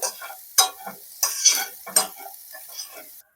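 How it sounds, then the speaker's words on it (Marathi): Green peas being stirred with spices in a pan while cooking matar kachori filling: several scraping, clattering spoon strokes against the pan in irregular bursts, close and fairly loud, over a faint background sizzle. "वाटाणे आपल्याला छान असे याच्या बरोबर मिक्स करून घ्यायचे आहेत"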